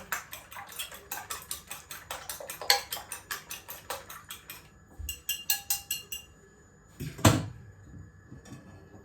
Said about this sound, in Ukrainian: Просто перемішую, виливаю на сковорідочку